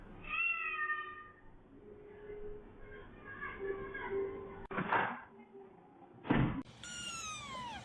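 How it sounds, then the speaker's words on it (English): A cat meows several times, high and drawn out, with a few short thumps and a sharp clatter near the end. "Oh, that's a cute meow."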